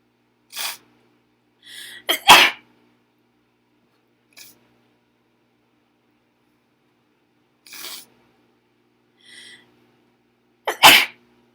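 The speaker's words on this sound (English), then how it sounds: "I just sneezed like 10 times" Several sharp sneezes, some in quick pairs, scattered with silent gaps between them, loud and close with no other sound.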